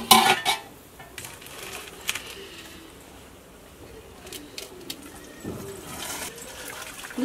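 Water pours and splashes steadily from a pot as cooked rice is drained, with faint clinks of metal cookware near the start and no talking.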